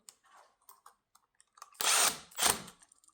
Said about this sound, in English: Hit it with the drill.